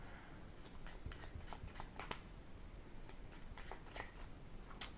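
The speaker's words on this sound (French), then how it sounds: "Le spectateur prend le jeu, il le mélange vraiment comme il le souhaite." A deck of playing cards is riffled and shuffled by hand for a mentalism trick, producing quick, soft flurries of papery flicks and slaps, close and quiet, with no talking.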